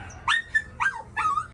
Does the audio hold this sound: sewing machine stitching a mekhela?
no